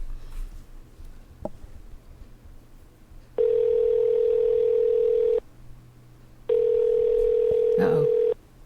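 Telephone ringback tone on an outgoing call, two long steady buzzing rings separated by a pause, clear and prominent over a faint background hum with a brief click.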